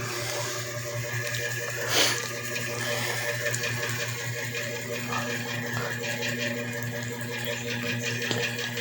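Water runs from a newly installed faucet in a steady, close hiss that holds even for the whole stretch, with no talking over it.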